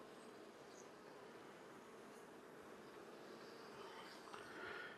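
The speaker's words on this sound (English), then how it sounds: "If you start getting bees around your head, like I've got 1 or 2 around my face, you need to smoke often." Honey bees buzz around a beekeeper's head during a hive inspection for swarm cells, making a faint, steady, diffuse hum that swells slightly near the end, with no speech.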